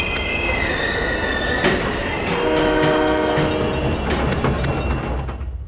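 Subway train from the game SimCity 3000, with rumbling rail noise, a squealing metallic wheel screech and horn-like tonal lines, a sharp click partway through, then fading out at the end.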